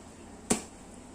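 A single sharp slap as a warm rolled sponge cake sheet on paper is banged down flat, one crisp isolated impact against quiet room tone.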